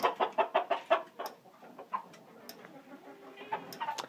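A run of rapid, loud clucks from a nearby chicken in a barn in the first second, then softer scattered clucking and rustling with a few chirps.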